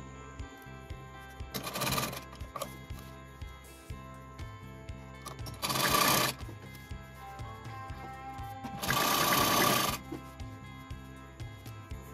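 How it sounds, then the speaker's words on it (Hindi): A sewing machine straight-stitches a kitchen apron strip in three bursts of fast, buzzy whirring, each lasting about a second. Quieter rhythmic mechanical ticking carries on between the bursts. "सिंपल स्ट्रेट स्टिचिंग करेंगे।"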